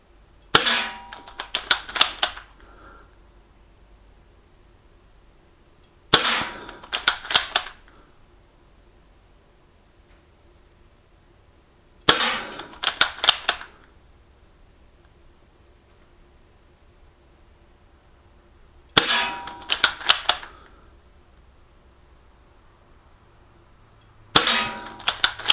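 Gletcher M1944 Mosin Nagant CO2 BB rifle fired outdoors, five separate bursts spaced several seconds apart, each a sharp crack followed by quick metallic clanks, with quiet between.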